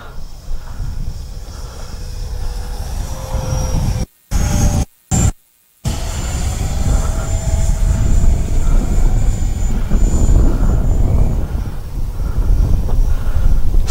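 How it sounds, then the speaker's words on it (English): An Arrows Hobby L-39 Albatros RC model jet flies overhead with a steady, thin whine over heavy wind and static hiss. The sound is broken by a few brief dropouts. "What a sweet flying little jet."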